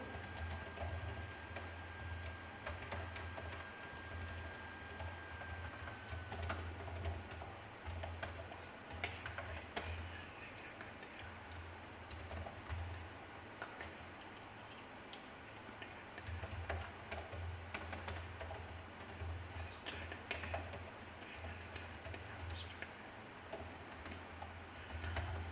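Code being typed on a computer keyboard, with quiet, irregular key clicks and short bursts separated by pauses over a faint background hum.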